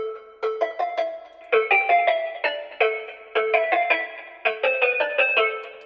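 An FL Studio trap melody passed through a filter, its bell-like plucked notes repeating in quick phrases with brief pauses, clear and unaccompanied by voices.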